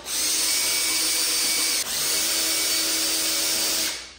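A power driver steadily whines as it backs out T25 windscreen bolts on a BMW S1000RR sport motorcycle, two close continuous runs with a brief pause between.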